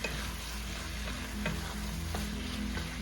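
Pork sautéing over high heat, a dense continuous sizzle with occasional stirring scrapes, close and steady with no talking.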